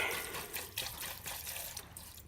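Cleaning fluid is poured over brass rifle cases in a small container, giving a faint, brief trickling and splashing of liquid close by.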